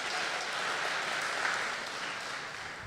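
A live studio audience applauding, a broad, even wash of many hands clapping that holds steady for a few seconds with no voices over it.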